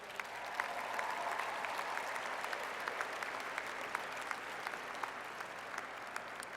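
A large crowd at a college undergraduate graduation ceremony applauds in a steady, even wash of clapping that continues throughout, heard from a distance and fairly faint.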